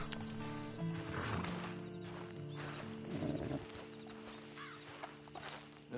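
Horse in the Red Dead Redemption 2 video game lets out a few close whinnies and snorts, with hoof clip-clops and faint game ambience underneath.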